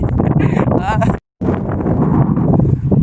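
Strong coastal cyclone wind on the ECR beach at Kovalam, Chennai, buffets the microphone with loud, rushing roars, cut by a brief dropout, while a voice talks underneath.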